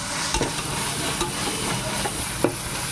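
Ginger garlic paste sautés in a pan for seeraga samba chicken biryani with a dense, loud, continuous sizzle close up, broken by light scraping taps as it is stirred.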